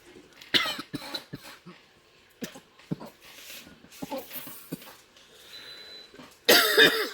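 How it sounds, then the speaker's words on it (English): Coughing fit, a string of separate harsh coughs scattered irregularly through a quiet room, ending in a louder burst. "had a bit of a coughing fit"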